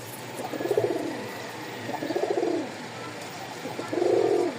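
A pair of black pigeons coo up close in three separate rolling, throaty phrases with short pauses between them, over a quiet background.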